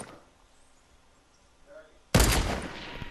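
A sudden loud burst of gunshots from the video game Fortnite breaks a near-silent stretch, then continues as a rough, sustained rattle.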